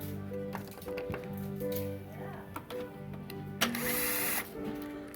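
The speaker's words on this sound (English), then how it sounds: "Reversible drill, so it'll take strings off and put them on" A small reversible power drill whirs in bursts while removing nyckelharpa sympathetic strings, its motor pitch steady then shifting, with clicks and handling noises close by and a brief voice.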